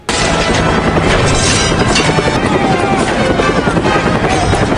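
A movie scene with a helicopter firing ammunition at prisoners, a dense, loud barrage of booming gunfire over rotor noise that persists throughout without pause.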